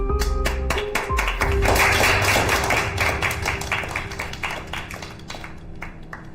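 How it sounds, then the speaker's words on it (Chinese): A room of colleagues applauds a coworker at an office meeting, with a burst of many hands clapping together, close and steady, that thins out into scattered claps as it fades, and no one speaks. "希望大家给她掌声。"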